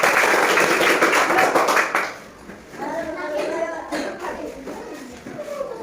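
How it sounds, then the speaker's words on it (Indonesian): Schoolchildren in a classroom clap together for a group of classmates, a loud, dense burst of applause lasting about two seconds before it stops and a voice speaks over quieter room noise. "beri tepuk tangan buat kelompoknya Ainun."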